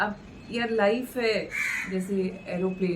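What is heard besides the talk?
crows cawing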